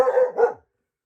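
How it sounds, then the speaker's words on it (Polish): A dog barks nearby during a Polish book-review talk, giving two quick, loud barks in a row before the sound cuts to silence. "Przepraszam za psa."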